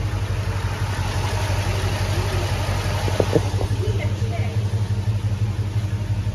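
A Hemi V8 swapped into a Grand Wagoneer idles smoothly and steadily at close range, a low even rumble throughout, while people talk over it.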